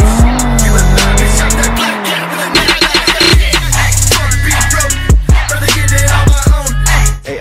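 An Audi RS3 Sportback with 400 hp launches hard using launch control, its engine roaring loud and close as it revs, shifts through gears and pulls away with tire squeal.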